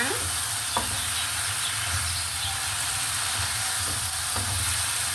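Okra frying with dried anchovies in a hot pan, a loud, steady sizzle and hiss with occasional stirring scrapes and small pops, close up and without talk.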